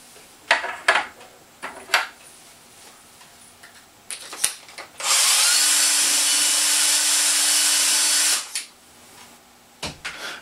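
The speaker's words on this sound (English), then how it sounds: "I'm going to come back and ream them all to make sure that I'm deburred." Hand reaming and deburring of trimmed brass rifle cartridge cases, with light scraping and clicking of brass handling followed by a steady, loud whirring tool run of about three seconds, close by and alone.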